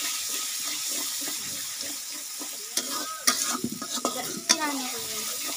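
Onion paste frying in a pan for a chicken curry, a steady broadband sizzle with scraping stir strokes and a few sharp clanks of utensil against the pan toward the end, no voices.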